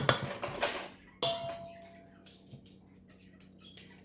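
A spoon clinks and scrapes against dishes while a lentil and apple salad is prepared, with one bright ringing knock followed by scattered lighter taps and scrapes.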